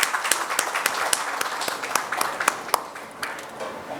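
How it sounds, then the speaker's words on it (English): Audience applause at a corporate annual meeting, made up of distinct individual claps from a modest crowd, with sharp separate hand strikes over a softer wash that fades gradually. "A huge round of applause for Dr."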